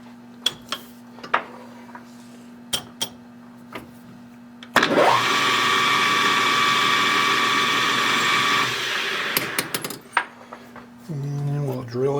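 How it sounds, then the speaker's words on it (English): A metal lathe drills into a spark plug blank with an undersized drill, a loud steady whirring grind lasting about five seconds. Quiet clicks come before it, and a lower motor hum and clicks follow. "And we'll drill it with this undersized drill"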